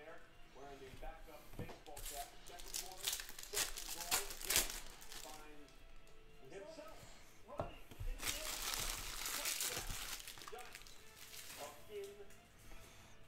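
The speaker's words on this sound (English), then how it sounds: "Let's rip open these ones really quick." Packs of 2016 Panini Absolute football trading cards being torn open, with crinkly foil wrapper rips and rustling in bursts, close up, while someone talks throughout.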